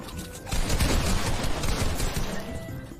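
Rapid gunfire bursts from a fast-paced shooter video game, the pumped shotgun blasts merging into a dense, loud barrage of overlapping shots that runs for a few seconds.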